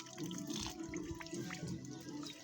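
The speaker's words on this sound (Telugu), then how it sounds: "అయితే నీళ్ళు పడుతున్నాం ఫ్రెండ్స్ చెట్లకి." Water runs steadily from a hose or tap onto the ground while cherry trees in a front yard are watered. The flow is close and constant, with small splashes and drips and no voices.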